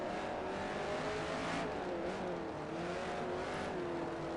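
A race car in the Forza video game accelerates down a straight while sliding sideways, its engine droning steadily with a rising, wavering pitch, loud and alone without talk.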